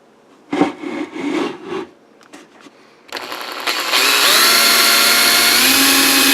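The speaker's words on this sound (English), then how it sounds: "Forgot to put the smaller drill in it" Close power drill drilling with a small bit, starting after a few clunks and handling noises, then running loud and continuous.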